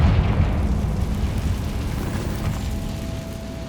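A Confringo blasting spell goes off in the game Hogwarts Legacy, a loud deep explosive boom at the start that rolls and decays into a rumbling tail over several seconds.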